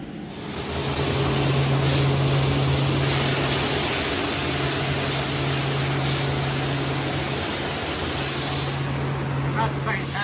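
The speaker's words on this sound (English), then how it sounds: "You'll see both machines cutting the same part at the same time, side by side." Two 12kW CNC fiber laser machines cutting the same part side by side, producing a loud, steady hissing roar with a constant low hum and no pauses.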